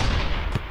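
A bomb blast from the ShellShock video game lands as a short, loud, dense burst with a sharp thump at its end, all packed into under a second of booming noise.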